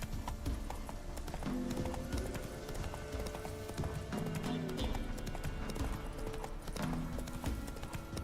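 Hooves clop in a quick rhythmic gallop as the horse Roach runs in The Witcher 3, the hoofbeats steady and close, with a brief whinny-like tone rising in places.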